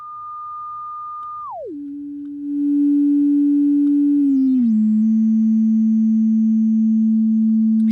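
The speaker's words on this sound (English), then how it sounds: "let me turn on one oscillator," A single oscillator on a SOMA Laboratory Rumble of Ancient Times synthesizer: a steady pure tone that glides down in pitch, settles, swells louder, then dips slightly lower and holds, with faint upper overtones and no talking.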